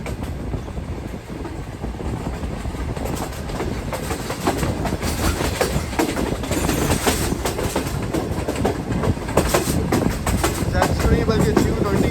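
Green Line Express passenger train in Pakistan running on rails between Islamabad and Karachi, a steady loud rumble with rhythmic clatter of the wheels throughout, a voice talking faintly over it.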